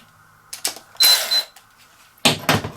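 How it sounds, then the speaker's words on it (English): Gentle metallic taps on a bolt to free a bearing from a McCallister electric scarifier come as a few sharp, close knocks in small clusters, with quiet pauses between them. "just gently tap the bolt, and the bearing will come off"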